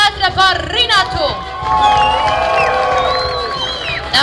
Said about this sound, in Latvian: Dāmas un kungi, aplausu vētra par Rinatu!